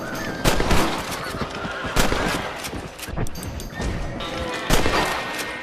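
Gunfire rings out while shooting rabbits in the video game Red Dead Redemption, with repeated sharp shots scattered across a few seconds amid outdoor game ambience.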